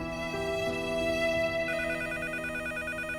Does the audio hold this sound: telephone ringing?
yes